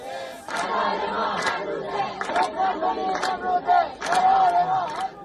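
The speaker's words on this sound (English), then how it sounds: "a massive crowd of women marched through the streets of Kermanshah" A massive crowd of women marching through the streets of Kermanshah, with many voices chanting and shouting together in loud, rising waves that carry across the whole stretch.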